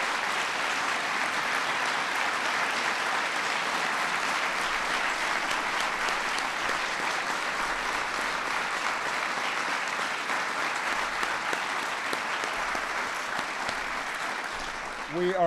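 Long, dense, steady applause from a large audience honoring National Medal of Science and National Medal of Technology and Innovation recipients, continuing evenly for about fifteen seconds before tapering near the end.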